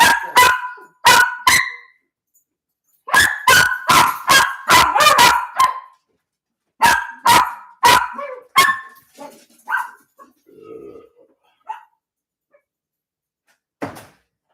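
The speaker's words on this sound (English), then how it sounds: "Little man's barking sounds like a damn seal." A small dog barks in close, loud bursts, quick runs of sharp barks separated by brief pauses, followed by scattered softer thumps and a last faint bark.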